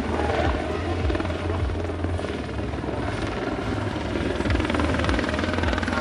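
A helicopter flies nearby at an aerobatic air show in Cholet, France, its rotor thumping steadily under a loud, continuous engine roar that holds throughout.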